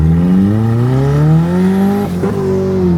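A turbocharged Toyota MR2 running a Honda K24 engine accelerates hard, its loud rising engine note climbing steadily before a brief shift break, then pulling again, with no talking.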